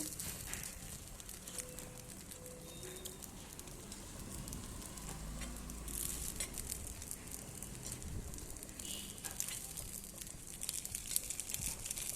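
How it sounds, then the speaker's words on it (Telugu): Ponganalu with vegetables frying in a covered pan, a steady soft crackle and sizzle with faint scrapes and clinks, fairly quiet and continuous throughout. "పొంగనాలని రెండో వైపు టర్న్ చేసుకొని కాల్చుకోవాలి"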